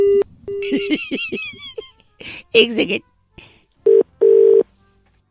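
A phone call cut off mid-conversation, with talk at first, then a few short beeping tones near the end, loud and close.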